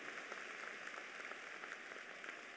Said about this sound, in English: Give him a round of applause for being so selfless.